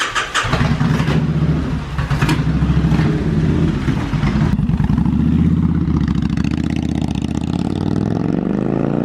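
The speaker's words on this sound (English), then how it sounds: "good old Pop's still running a little bit rough" A hatchback car engine starts and idles roughly at close range, loud and uneven with some revving, and no talk over it.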